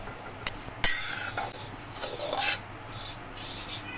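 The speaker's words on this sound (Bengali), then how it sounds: "এই সেমাইগুলো এখন আমি সুন্দর করে আগে ভেজে নিব।" Vermicelli fried in a pan and stirred with a utensil, giving short scraping and rubbing strokes in irregular bursts, close and moderately loud with no talking.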